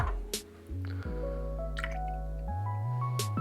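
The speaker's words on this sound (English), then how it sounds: "we're going to go 40 mils of London Dry Gin" London Dry Gin poured straight into a glass for a gin and tonic, a close, soft liquid trickle with a few small drips and a rising gurgling tone as the glass fills.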